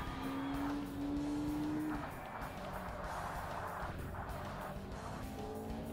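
A car engine in the Forza Motorsport racing game revs at around 5,000 rpm in second gear, a steady loud droning whine with a brief rising tone at the start, continuous and without speech.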